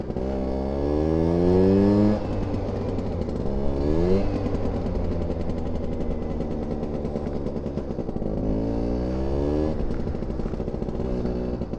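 A Vespa Smallframe scooter, a rat bike with a 125 engine, buzzes along on a test ride, its small two-stroke note rising and falling with repeated revving as gears change.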